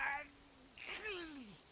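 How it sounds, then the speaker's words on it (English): A character sneezes once in the video game Catherine, a short sharp burst with a rising then falling vocal tone, heard close and fairly quiet over soft game background. "What a sneeze."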